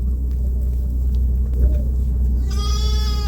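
Sheep on a farm during lambing season, with a low steady rumble throughout and harmonic bleats rising near the end, fairly close and moderately loud.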